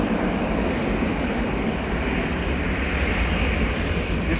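KLM Embraer E2 195 jet departing Amsterdam Schiphol for Florence, its engines a steady, loud broadband roar holding without pause, heard fairly close with no talk over it.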